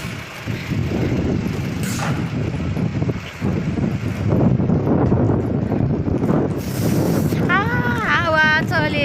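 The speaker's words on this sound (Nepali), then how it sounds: "हावाले हामीलाई चाहिँ पुऱ्याउन खोज्दैछ, तर हामी उड्नेवाला छैनौँ" Strong wind buffets the microphone outdoors near a market during stormy weather, a steady loud roar with gusts; people talk under it and a voice rises near the end.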